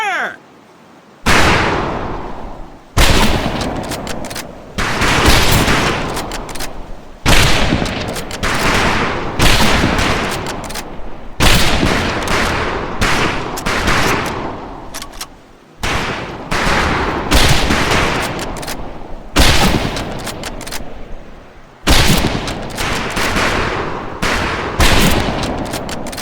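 Rifle gunfire on a firing range in the video game Medal of Honor: repeated bursts of loud, close shots in clustered volleys, separated by brief pauses, over roughly twenty-five seconds.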